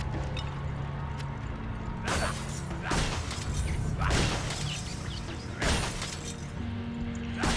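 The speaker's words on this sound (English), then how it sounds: "I'll just finish smashing up this ancient tomb." Objects being smashed inside an ancient tomb in Torchlight 2, with repeated crashes and shattering bursts over creaking, clanking machinery sounds, loud and close throughout, no talking.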